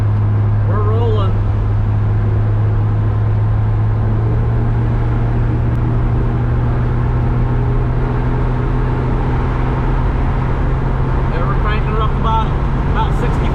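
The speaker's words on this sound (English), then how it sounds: "The car's running pretty dang good." A 1971 Ford Maverick cruising at about 65 to 70 mph gives a steady, low engine drone with constant road and wind rumble throughout and no backfire. Faint voices come and go over it.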